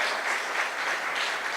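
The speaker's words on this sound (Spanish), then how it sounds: "Dele un aplauso y se lo va a dar al Señor." A church congregation applauds during a sermon, a steady wash of many hands clapping together at moderate loudness, sustained without speech for nearly two seconds.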